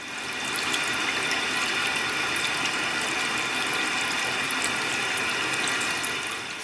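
Water tap running to rinse freshly developed Efke 25 film at home, a steady hissing flow with faint trickling texture, constant and fairly close, with no talking.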